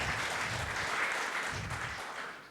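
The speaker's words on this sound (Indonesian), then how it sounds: "Berikan tepuk tangan meriah buat Tuhan kita" A church congregation applauding during a worship service, a soft, distant wash of clapping that holds evenly and fades slightly toward the end.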